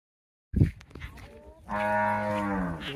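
A cow moos loudly nearby, a short low call followed by a long, drawn-out harmonic moo with nobody talking.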